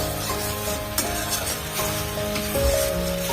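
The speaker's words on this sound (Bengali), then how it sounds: "পেঁয়াজ বাটা দিয়ে একটু নাড়তে হবে, একটু কষে নিতে হবে" Onion paste splashed with a little water cooks in a pan for a Bengali doi rui fish curry, making a close, busy sizzle with scraping and rubbing from steady stirring, a few sharp clatters mixed in, and no talking.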